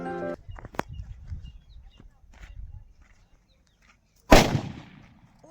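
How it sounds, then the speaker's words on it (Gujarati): Firecrackers set off in a small celebration: one sharp loud bang near the end that rings out and fades, preceded by quieter rustling and faint chatter. "ફટાકિયા આપણે ફોડી છીએ।"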